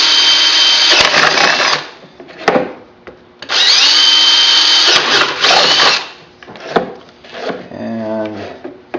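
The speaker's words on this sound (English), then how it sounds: "And I'm going to drill several of these." A power drill with a 1/2 inch bit bores holes through a horse trough. It whines loudly in two long, steady bursts, close up, with brief pauses and handling clatter between them and a short rattling buzz near the end.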